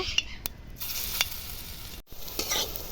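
Drumstick flower fritters frying in a little mustard oil in a wok give a steady close sizzle, broken by a few sharp clinks and stirring scrapes from a utensil, with no talking.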